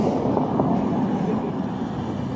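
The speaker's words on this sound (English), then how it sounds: "And you can hear the traffic in the background." Steady road traffic beside a high-desert roadside at the Antelope Valley poppy reserve in California, a continuous loud low rumble and roar of passing vehicles with no breaks, with a voice faintly mixed in.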